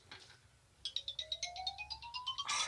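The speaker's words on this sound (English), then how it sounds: "Oh, it's my other phone." A phone ringtone plays a short rising electronic melody of quick repeated tones, fairly faint, during a solo camping trip, with no talking over it.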